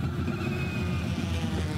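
Race car interior running on battery power alone with the combustion engine off, giving a steady whirring, washing-machine-like drone with a faint rising whine, continuous and close throughout.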